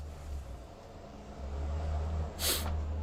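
Someone with a stuffy, congested nose gives a single sharp, close sniff, a short breathy burst rising over a steady low background hum.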